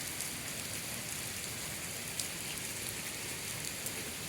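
Steady heavy rainfall in Punjab, a thick unbroken hiss with occasional crisp drop strikes standing out, heard alone without talk.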